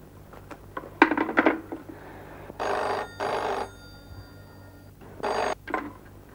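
An old-style telephone bell rings indoors, in bursts of steady ringing separated by pauses, sounding in a Hindi television drama, with some clattering handling noises at the start.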